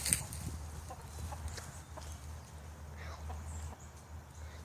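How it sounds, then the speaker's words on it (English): Chickens clucking nearby at a railroad spot, a busy scatter of short calls and chatter over steady outdoor background noise, with faint voices mixed in. "So guys, there are the chickens."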